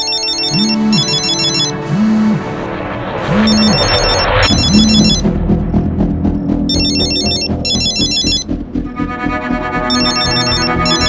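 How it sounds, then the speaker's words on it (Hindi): A mobile phone ringtone plays loud and close, a repeating electronic melody with chiming tones that keeps going for the whole stretch. "ये किसका मोबाइल बजा?"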